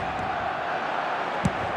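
A stadium crowd in the eFootball football video game keeps up a steady, loud roar on match day, with one brief sharp thump rising above it.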